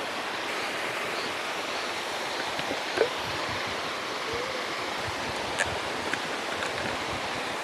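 A mountain waterfall in Shandong, China roars in a steady, dense wash of rushing water that fills the whole scene, with a faint voice briefly heard beneath it.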